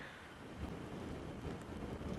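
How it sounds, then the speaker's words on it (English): Strong wind gusts buffet the microphone outdoors on an African safari drive, a steady loud rushing roar with low rumbling surges and no voices. "It is very windy"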